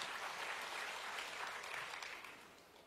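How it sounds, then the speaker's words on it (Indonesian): A church congregation applauds during a sermon, giving a dense, sustained wash of clapping from many hands that fades slightly toward the end. "Sorak-sorai tepuk tangan bagi Allah kita."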